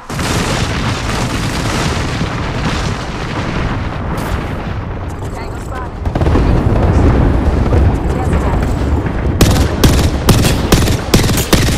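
Artillery strike in Apex Legends: a dense, loud barrage of booming blasts and rumbling impacts, growing heavier midway, then a run of sharp cracking hits near the end, with a voice talking over the combat.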